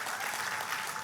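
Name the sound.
audience applause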